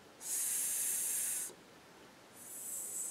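A voice makes a soft, sustained hissing "s" for the soft C, imitating the sound. There are two breathy hisses, the first about a second long and the second fainter, close to the mic with no other talk.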